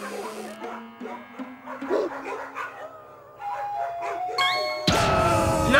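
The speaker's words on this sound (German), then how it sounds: "Schick mir die Hunde einzeln rein!" Cartoon dogs yapping and howling in a quick series of pitched, tuneful barks that rise toward a loud, buzzing burst at the end, set against a busy animated soundtrack.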